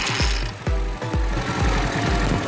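A faulty car starter motor grinds roughly and loudly up close, with a rapid, uneven rattling chug that repeats in regular surges and has no speech over it.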